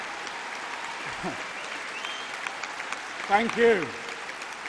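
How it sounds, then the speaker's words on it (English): Applause from a Labour Party conference audience in Liverpool fills the hall in a steady, moderately loud wash of clapping, while a man at the podium repeatedly thanks the crowd over it. "I take it that applause was for Bill Shankly."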